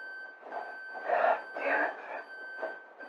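House alarm going off indoors: a steady high electronic tone holds throughout while fainter, muffled noises swell and fade beneath it at moderate distance.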